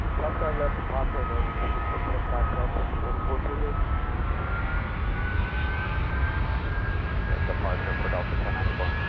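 An Airbus A310 airliner lands with a steady, loud jet engine roar and a rising whine, while cockpit voices and radio chatter sound over it.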